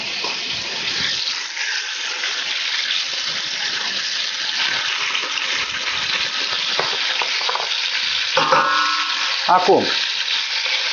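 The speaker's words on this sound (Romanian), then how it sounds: "Vedeți cum sfârâie, da?" Meat frying and sizzling in a hot pot for goulash soup, a steady broadband hiss throughout with occasional stirring clatter near the end and a brief voice.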